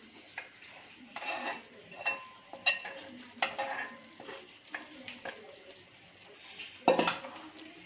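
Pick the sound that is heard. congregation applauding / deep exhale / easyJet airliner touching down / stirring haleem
stirring haleem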